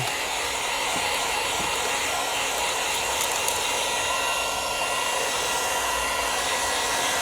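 A heat gun blows steadily while warming window tint on a Rivian R2, a continuous close airy roar with no pauses throughout.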